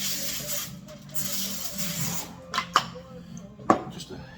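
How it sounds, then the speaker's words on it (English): Non-stick cooking spray hisses from an aerosol can in short bursts onto a lasagna pan before smoking, a soft, close hiss with a few sharp taps and rustles. "But thing we got to do is spray this"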